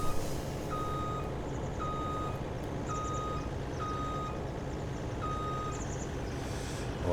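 A truck in Farming Simulator 19 reversing: a steady electronic backup beep repeating at an even pace, about six times, over a loud constant engine rumble, with no talk.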